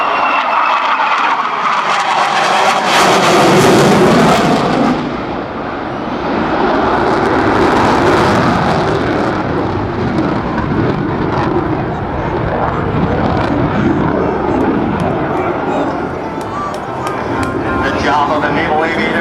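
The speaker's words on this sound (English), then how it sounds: "Demonstrating the Super Hornet's agility in the pitch rate demo." An F/A-18F Super Hornet jet roaring loudly through a pitch rate demonstration at the 2008 NAS Oceana airshow, a continuous, powerful engine rumble and whoosh that swells and fades as it maneuvers, with a voice talking over it.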